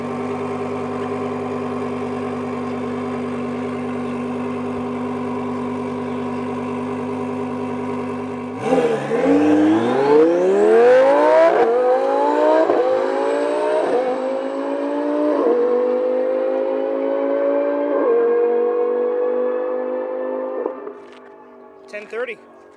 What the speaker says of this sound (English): Turbo Huracan is lining up, getting ready to run.